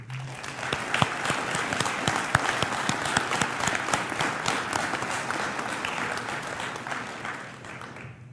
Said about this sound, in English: please help me to give all of the students one more round of applause